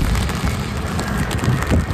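Rain falls steadily at a veterans' cemetery in Oregon, a continuous close hiss of drops with some wind rumble, no voices.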